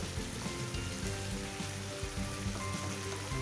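Chicken pieces fry and sizzle in a pan for butter chicken, giving a constant crackling hiss with fine popping throughout, fairly quiet and with no one talking.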